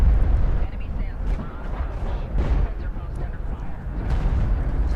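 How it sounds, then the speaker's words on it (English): Missile barrage slamming down in the real-time strategy game Homeworld: Deserts of Kharak, a dense rumbling wash of overlapping blasts and booms that runs continuously and loudly, with a commentator talking over it. "Another missile barrage, which of course has a very low cooldown, kind of frustratingly low in fact."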